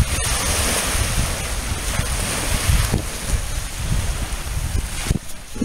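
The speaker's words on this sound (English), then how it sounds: "The water's getting rough." Rough sea waves roll in at high tide on a windy coast, a continuous loud wash of surf with wind buffeting the microphone and no voices.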